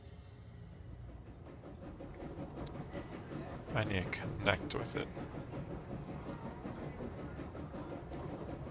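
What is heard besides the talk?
train riding in Control video game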